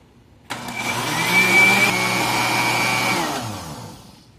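Blender beating a pudding mixture switches on abruptly, holds a loud steady whir for about three seconds, then winds down as it stops.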